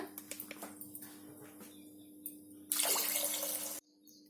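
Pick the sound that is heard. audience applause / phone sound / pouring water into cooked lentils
pouring water into cooked lentils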